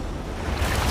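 A large ocean wave rolls in toward people stranded on an island, a broad rushing surge that builds louder toward the end, roughened by wind.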